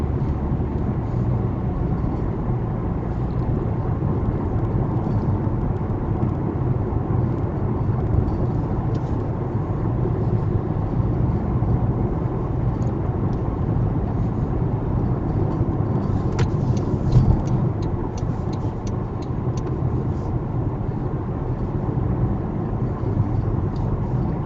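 A car on a narrow road speeds up toward a 70 km/h limit, a steady broadband engine and road roar heard from inside the cabin and continuing throughout, with a few faint clicks and rattles near the end.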